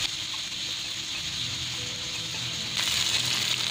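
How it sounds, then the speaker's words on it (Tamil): Onions fry steadily in a pan for aloo chicken curry, a soft continuous sizzle and hiss close by that brightens and grows slightly louder near the end. "தானியம் வந்து கொஞ்சம் கலர் மாறுற வரைக்கும் அப்படியே வணக்கி தரணும்."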